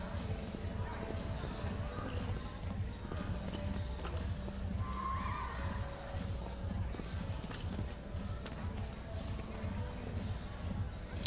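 Horse hooves gallop around a 1.45m speed show jumping class arena, a rapid rhythmic thudding of hoofbeats heard at moderate distance under a commentator's talk and faint crowd ambience.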